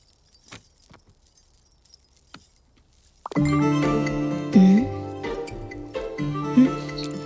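Vehicle keys jangle and clink in a close, bright burst after a few seconds of near silence, with faint taps before it and a car-like hum underneath.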